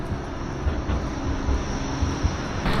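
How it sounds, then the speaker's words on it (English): A tram runs along Blackpool promenade in a loud, steady rolling rumble. Faint rhythmic rail clacks sound beneath a broad roar that holds close and constant throughout. "So you've got the trams there, you can get up and down the whole of the promenade."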